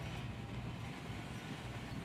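A train rolls steadily in the Railroads Online video game, giving a continuous low rumble with faint rail clatter over two seconds, heard alone.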